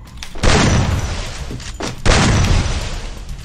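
Gunfire in a first-person shooter played on a cheap PC, with loud booming shots in two heavy bursts separated by a shorter thump, close and dominant with no talk over them.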